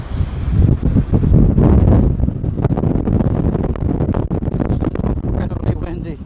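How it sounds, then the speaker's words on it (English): Strong wind gusting over a narrow coastal ridge at El Golfo on Lanzarote, roaring and buffeting the microphone steadily throughout, with louder bursts near the start. "Incredibly windy."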